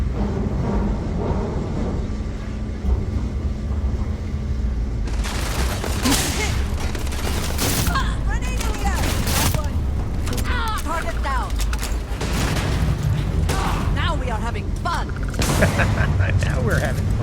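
Gunfire from a firefight in the Starfield video game, with rapid bursts of shots and impacts over a dense, busy battle mix, while a player talks excitedly throughout.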